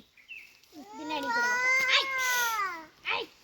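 A kitten gives one long, drawn-out, wavering meow that rises and falls in pitch, preceded by a faint short chirp and followed by a brief squeak, close and fairly clear.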